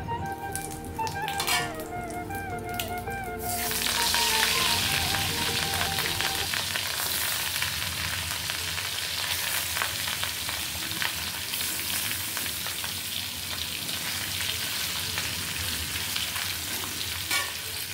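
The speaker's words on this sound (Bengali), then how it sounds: "তো মাছ ভাজতে দিয়ে দিলাম" Pieces of rohu fish fry in hot oil with a loud, close, continuous crackling sizzle. Faint music plays at first, and there are occasional light pan and utensil sounds.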